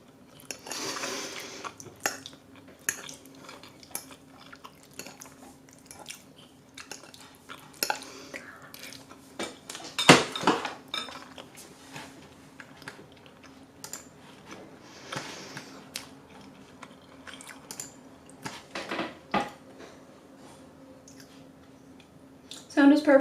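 Clinks of cutlery against dishes and soft chewing sounds, scattered and close, with faint background murmur throughout.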